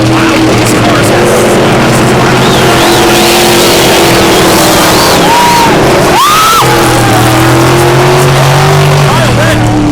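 Loud V8 race cars roar around a dirt track, their engines revving and surging as they pass, while a crowd murmurs and a voice talks over the din.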